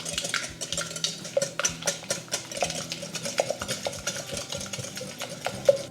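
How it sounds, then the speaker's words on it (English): A whisk beats eggs with sugar, cinnamon, nutmeg and salt in a bowl, clicking and scraping against the sides in a quick, steady rhythm for several seconds, close and fairly loud with no voices. "We're going to whisk this together till the eggs break down and the sugar dissolves."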